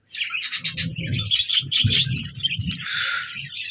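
Budgerigars chirp and warble in rapid, bright bursts close by, several birds calling over one another continuously for a few seconds.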